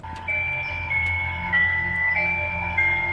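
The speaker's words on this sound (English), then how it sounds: "Sounds like fucking ice cream truck music" Slow, eerie ice cream truck music-box melody with sustained tinny tones over a low hum, steady and moderately loud throughout, no talking.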